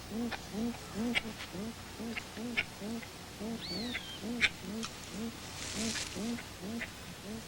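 A trumpeter bird gives a rapid run of repeated low, honking alarm calls in an even rhythm in wild forest, with scattered sharp clicks and a brief higher whistle partway through.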